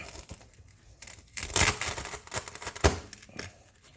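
Knife slicing through a homemade fake layer cake, giving a few crisp tearing, crinkling cuts in two close bursts, loudest in the middle and separated by quieter scraping.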